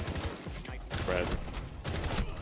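Rapid gunfire rattles in Rainbow Six Siege, an online shooter, in dense overlapping bursts while a player talks over it.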